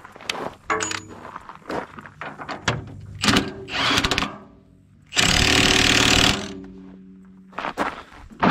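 A 3/4 inch impact wrench hammers at a stuck bolt in loud rattling bursts separated by pauses, with clanks and one long sustained run near the end.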